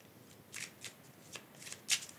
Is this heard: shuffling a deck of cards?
yes